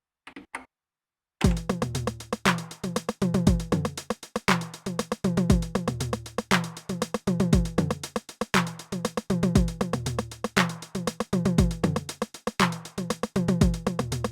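A steady 909 drum machine groove with punchy kicks, crisp ticking hats and occasional tom hits, looping at a moderate tempo with no voices.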